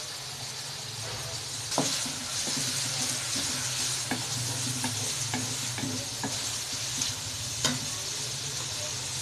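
Onions frying in a pan for kadhi pakora, stirred steadily, with a continuous close sizzle broken by occasional spoon scrapes and clicks.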